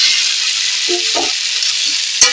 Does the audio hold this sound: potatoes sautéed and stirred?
yes